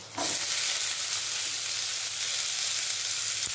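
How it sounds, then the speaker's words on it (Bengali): Potatoes seasoned with salt and turmeric sizzle steadily in hot oil, a loud, even frying hiss that starts with a quick burst as they go in and then holds close and constant with no talking. "ওই তেলের মধ্যে আলুগুলো দিয়ে দেবো। আলুর মধ্যে লবণ হলুদ দিয়ে দিয়েছি।"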